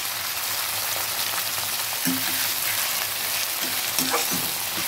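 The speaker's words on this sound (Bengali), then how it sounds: "এবার ভালো করে ভেজে নেব" Finely chopped onions and green chillies frying in oil for mutton curry, a dense, even sizzle like steady rain, close and loud, with a few brief scraping knocks from stirring and no speech.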